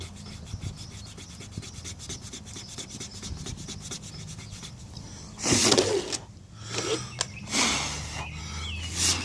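A pencil eraser rubbing back and forth on paper during roof-cutting layout math, a run of quick scratchy strokes followed by a few louder, longer rubbing bursts up close.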